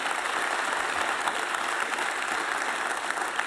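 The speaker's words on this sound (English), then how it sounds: "He deserves a few more rounds of applause." Audience applause at an award event, a steady dense wash of many hands clapping that holds evenly throughout at moderate distance, with no voices breaking through.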